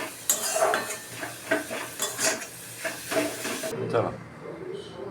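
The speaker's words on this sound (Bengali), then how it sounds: "আর একটু নাড়াচাড়া করে একটুখানি ভাজা ভাজা করে নামিয়ে দেবো" Purnima greens are stirred and fried in a pan with a spatula, giving a series of rhythmic scraping strokes over a soft, steady sizzle, close and fairly clear.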